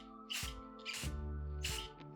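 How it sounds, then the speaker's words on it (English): Short hissing bursts of an aerosol spray can coating coffee table hardware, three or four quick passes in a steady rhythm, close and fairly quiet over a faint background hum. "we are ready to start spray painting"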